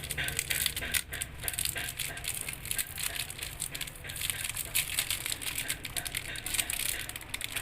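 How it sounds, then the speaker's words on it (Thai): The plastic bag of a heating pack for self-heating instant cup noodles is torn and handled up close, giving a continuous rough crinkling and rustling with no talk. "แล้วทีนี้เราก็จะมาฉีก มาฉีกถุงร้อนนะคะ"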